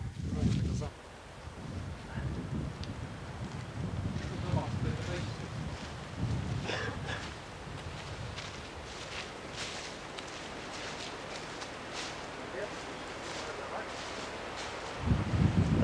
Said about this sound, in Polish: bo wiatr jest